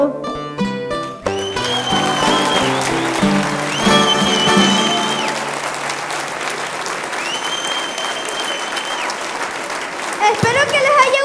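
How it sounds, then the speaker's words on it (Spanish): An audience at a verse-singing performance in Valsequillo breaks into applause, a dense, sustained clapping that swells after the closing sung notes, with voices speaking over it. "muchas gracias por los aplausos"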